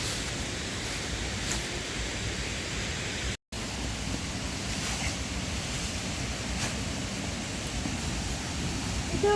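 Khal-Khal waterfall in Oguz, Azerbaijan, heard up close as a steady, loud broadband roar of falling water that continues without pause apart from one very brief dropout.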